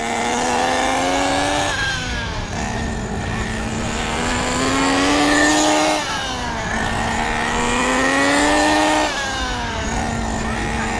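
HPI Nitro Bullet ST RC car with a G3.0 2.2 HP nitro engine running on a first start, a loud, continuous high-pitched buzzing whine that rises and falls in several revving surges throughout.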